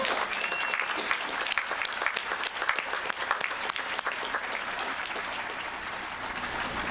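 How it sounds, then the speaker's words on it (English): A large crowd applauding steadily at a July 4th, 2016 citizenship ceremony at Monticello, dense continuous clapping that holds at an even level without pause. "Let's give him another round of applause."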